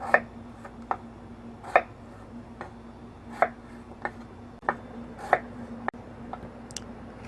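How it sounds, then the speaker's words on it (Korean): Knife chopping two potatoes into bite-sized pieces on a cutting board for Korean spicy braised chicken, with about a dozen sharp, evenly spaced taps close by over a steady low hum. "감자 2개 분량 먹기 좋은 크기로 썰어 볼게요."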